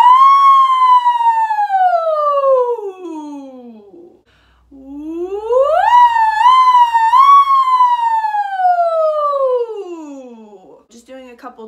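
A voice slides smoothly down through its range, pauses, then glides up with small turns at the top before sweeping back down, imitating a siren.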